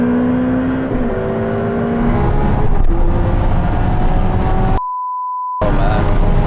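A tuned Porsche 911 Turbo S and a Ferrari 488 Pista drag racing side by side, loud continuous engine roar with gear-shift steps in pitch, broken near the end by a short steady electronic beep.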